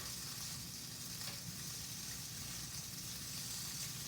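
Polenta on a grill gives off a continuous soft sizzle right after being flipped, an even, steady crackle at low volume with no talking.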